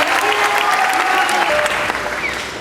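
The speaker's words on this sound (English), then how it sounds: "Let's give one more big round of applause to all those students who did it." Audience applause at a school promotion ceremony for graduating students, a full sustained round of clapping that gradually fades toward the end.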